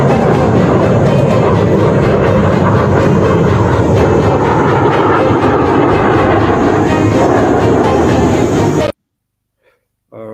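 A fighter plane flies and turns in a manoeuvre, producing a loud, steady engine roar and rushing air noise for about nine seconds, then cutting off sharply into near silence.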